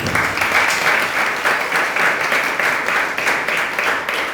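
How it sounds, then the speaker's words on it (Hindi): An audience at a spiritual discourse claps together in a steady, even rhythm, a full crowd beating time in unison throughout. "ताली तो बजा लो अपनी।"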